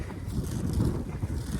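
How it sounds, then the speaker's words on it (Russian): Strong wind gusts over an icy mountain pass road in Yakutia, buffeting the microphone with a continuous low roar that swells and eases, with no talking. "ветрище вообще ужасный"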